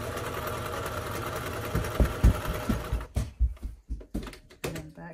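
A sewing machine stitches a fabric face mask, a steady loud mechanical whir breaking into short rhythmic stitching bursts with pauses between them, close up.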